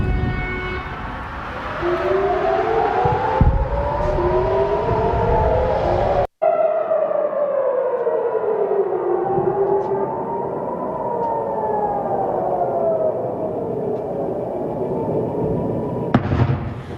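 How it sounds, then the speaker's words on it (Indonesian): Civil defense air raid warning siren in Tel Aviv during Iranian missile attacks, a long rising and falling wail that sweeps steadily, loud and sustained, with a sharp bang partway through. "Sirine peringatan berbunyi dan cegatan serangan udara atas rudal Iran terlihat di seluruh Tel Aviv."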